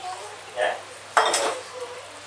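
Cashew paste goes into a cooking pan with two short, close scrapes of a spoon against the metal, the second louder and longer, over a quiet kitchen background.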